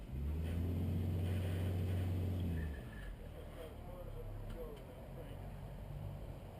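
A boat's outboard motor revs steadily at a power launch, a loud droning hum that cuts off after about two and a half seconds, leaving quieter water and ambient noise with faint talk.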